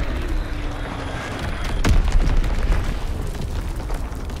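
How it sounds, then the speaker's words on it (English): A single heavy bomb explosion from the Call of Duty WW2 game, a loud deep boom that bursts suddenly midway and rumbles on, set against a steady battlefield background roar. "Enemy bomb incoming"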